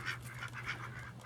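Chickens on an Arizona homestead give soft, repeated clucks and honk-like calls in a steady near chorus, a low hum running underneath.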